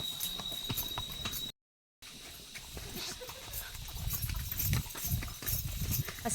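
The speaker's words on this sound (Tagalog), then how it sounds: "Grabe naman itong kabayo na ito" Hooves clip-clop at a quick steady pace while a horse is ridden along a trail, with rustling and a brief silent gap partway through.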